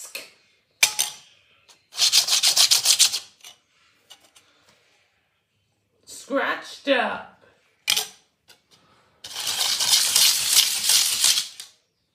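A DVD box is scratched in several harsh, close bursts of rasping, with sharp clicks and a brief vocal sound between the bursts.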